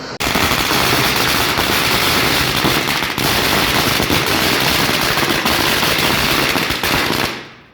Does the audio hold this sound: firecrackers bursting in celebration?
yes